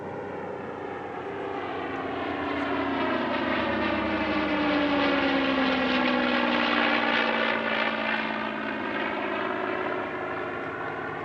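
Restored propeller aircraft flying a two-ship formation display at the Air Legend airshow, La Ferté-Alais, their droning engines rising to a loud, sustained pass with a falling Doppler pitch before easing slightly, with no voices.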